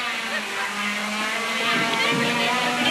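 Rallycross cars race at Mondello Park in Ireland during the 1985-87 Irish winter championship. Engines drone steadily and loudly, and the roar swells toward the end.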